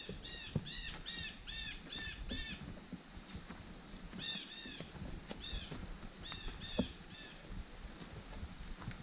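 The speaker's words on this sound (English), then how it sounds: "Birds are saying they're coming." Outdoors on the Coosa Trail, wild birds give repeated bursts of bright, rapid chirping notes in clustered series, fairly close, over a soft outdoor background hiss.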